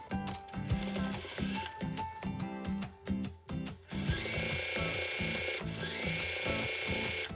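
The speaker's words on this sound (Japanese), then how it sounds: "そして最後に裾を三つ折りに折ってステッチをかけます。" A sewing machine stitches a triple-folded apron hem in steady, rapid bursts, pausing briefly between runs, then running continuously and loudly up close with no talking.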